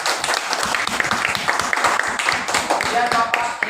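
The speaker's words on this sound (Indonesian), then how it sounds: "Beri dia tepuk tangan." A classroom of students claps their hands together in quick, fairly loud bursts, the claps close and slightly uneven, with voices mixed in among them.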